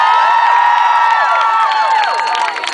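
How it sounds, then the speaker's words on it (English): A large crowd in Times Square cheers and whoops at an evening event, a dense, continuous roar of many voices with whistles and high shouts layered on top, loud and sustained throughout. "Let's give up some applause tonight."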